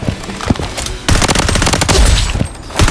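Rapid automatic gunfire from a rifle in the shooter game Blood Strike, loud, close bursts that pause briefly and then resume.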